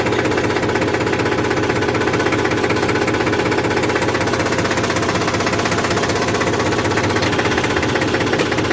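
A tractor's hydraulic arm strains to pull a stuck borewell motor from a bore, giving a loud, steady mechanical hammering and engine rumble that runs unbroken and close throughout.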